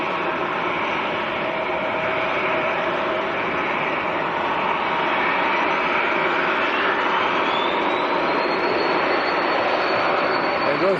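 German Pilatus PC-24 business jet taking off at Manchester Airport, a loud steady engine roar with a rising whine near the end, heard under faint background chatter.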